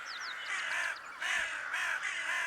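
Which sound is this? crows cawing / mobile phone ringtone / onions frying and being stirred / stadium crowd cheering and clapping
crows cawing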